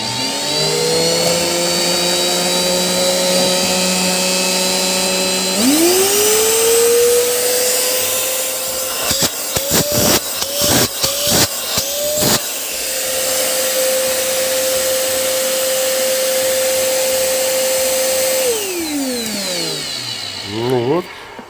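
A Samsung SC20M251AWB vacuum cleaner runs after a motor repair, loud and close, its whine rising as it spins up, then fluttering through several quick on-off pulses before settling into a steady drone and finally winding down.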